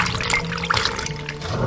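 Lotus root slices are rinsed in water, giving a steady splashing and sloshing close up, with small trickles and drips and no talking.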